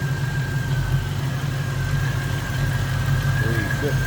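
A warmed-up 351 Windsor V8 in a 1967 Mercury Cougar XR7 hardtop idles low and steady, a continuous close rumble with a faint whine from the power steering pump riding over it.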